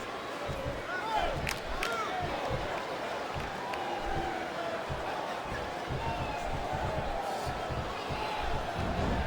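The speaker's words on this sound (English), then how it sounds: "This capacity crowd is solidly behind their superstar." Capacity crowd in a wrestling arena at WWE Unforgiven 2007, a dense, continuous roar of cheering and chatter with occasional thuds from the ring, loud and steady throughout.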